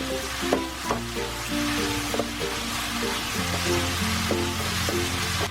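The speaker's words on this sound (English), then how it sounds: "add 3 tablespoons of rice cooking wine. Stir it in and let it toast for a bit" Rice cooking wine sizzling as it is stirred into a hot pan with chicken, a steady crackling fry that runs throughout, close and fairly loud, with soft clinks from the utensil and no talking.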